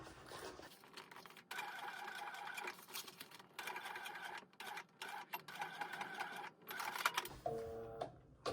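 A sewing machine topstitches slowly around the corners of a waist pack, running in close stop-and-go stretches with brief pauses between them.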